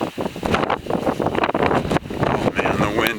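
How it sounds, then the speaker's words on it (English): Strong gusting wind buffets the microphone outdoors beside a Honda Element pickup conversion, a loud continuous roar with rumbling surges throughout, and a voice talks underneath. "the wind is just gnarly"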